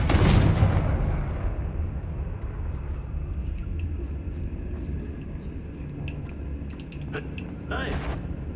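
The Confringo fire spell in the video game Hogwarts Legacy detonates with a loud, booming blast that rolls into a long, fading rumble, followed later by a few faint game sounds.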